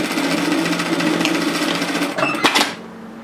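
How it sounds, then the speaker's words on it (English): A sewing machine hums steadily as it stitches the shoulder seam of a Japanese-style cross-back apron, ending with a brief back-tack and a couple of sharp mechanical clacks before it stops. "I am going to match that and stitch it together in a 1 centimetre, 3/8 of an inch seam"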